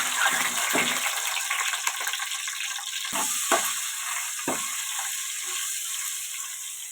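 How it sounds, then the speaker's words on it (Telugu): Eggs frying in oil in a home kitchen pan: a steady, moderately loud sizzle runs through the whole clip, with a few sharper crackles and stirring clatters and no talking. "ఇప్పుడైతే ముందుగా అయితే గుడ్లు వేపేసుకుందాము"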